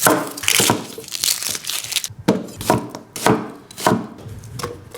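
A knife chops through half an onion on a cutting board, rapid close crunching cuts in uneven bursts, loud and crisp.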